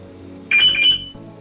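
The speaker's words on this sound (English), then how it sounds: "That, my friend, is the alert reminder beep." Alert reminder beep from a RadioShack PRO-136 scanner radio: a short electronic chirp of two or three quick high tones lasting about half a second, rising sharply over a quiet background hum.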